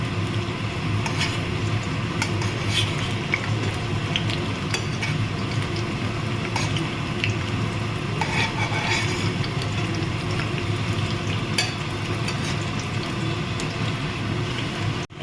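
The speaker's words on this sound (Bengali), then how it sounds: "এগুলো সব আমি ভেজে নিচ্ছি।" Stuffed ash gourd pieces frying in hot oil, a steady, close crackling sizzle with bubbling that holds at an even level throughout, no voices.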